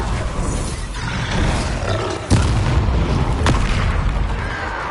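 A Bombarda spell explosion in Hogwarts Legacy lands as a sudden heavy boom over a constant roaring rumble, followed by a second sharp crack moments later; loud and close.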